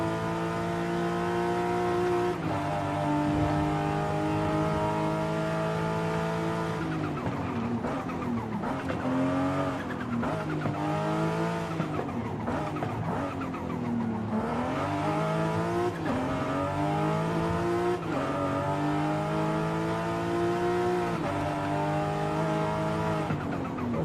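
A tuned car of about 550 horsepower in Forza Horizon 5 accelerates hard, its engine note climbing through repeated gear pulls in a steady, loud drone, with rising and falling pitch sweeps as it shifts.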